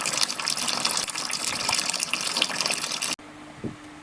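Wort is tipped back over the malt bed while brewing a real-ale IPA, a loud continuous gushing pour that stops abruptly near the end, leaving a quiet room with a brief soft knock.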